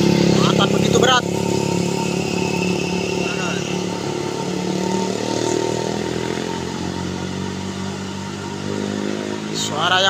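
An overloaded Colt Diesel truck strains uphill, its engine droning and labouring steadily with some clatter throughout, loud and close, while voices talk over it.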